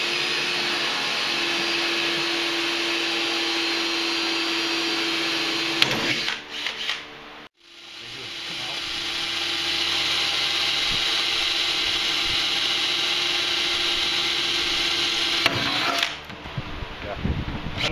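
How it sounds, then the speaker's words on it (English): A power drill drilling out rivets whines steadily at high speed, stopping briefly twice and then spinning up again, loud and close, with a faint voice beneath. "First thing we're going to do is we're going to drill out all the rivets."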